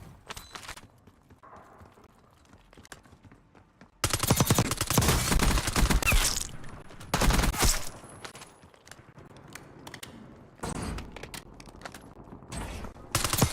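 Gunfire in a military shooter video game: a quiet opening gives way to loud, rapid bursts of automatic fire in clustered volleys, pausing briefly between bursts, close and harsh, with no talking.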